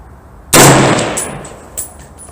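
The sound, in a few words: 6.5 Creedmoor AR-10 rifle gunshot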